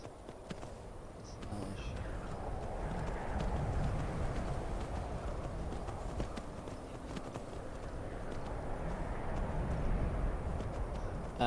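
Steady hoofbeats of a galloping horse in Skyrim run continuously at moderate loudness, with a dense rumbling texture underneath and no voices.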